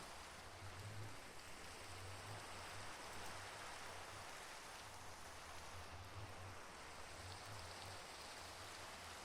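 Video game rain as a faint, steady hiss of falling drops with a soft, intermittent low hum beneath, continuous and unbroken.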